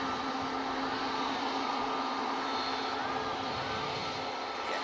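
Aer Lingus A321neo airliner taxiing at Manchester Airport, a steady, fairly distant engine drone holding level throughout with a faint tonal whine and no voices.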